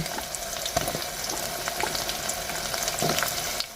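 Onions frying in a pan, an even sizzle with scattered sharp clicks and scrapes of stirring at moderate volume, no one speaking.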